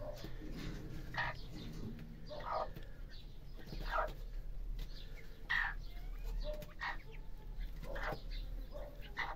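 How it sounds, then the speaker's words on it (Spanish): A hen clucks in short repeated bursts against steady low outdoor rumble, with occasional wing flaps between the calls. "estoy escuchando la gallina"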